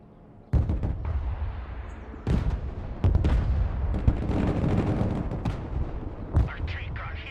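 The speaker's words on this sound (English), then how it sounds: "Mortar ready to engage, sir." Mortar and artillery fire in the video game Broken Arrow: several sharp booming shots land at irregular intervals over a sustained rumbling battle din, with faint radio chatter mixed in.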